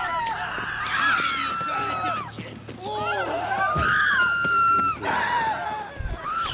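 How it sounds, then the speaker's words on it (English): Screaming in The Witcher 3, with shrill, wavering cries rising and falling over a busy game soundscape that has a low hum beneath it, continuing for several seconds. "Screaming noises."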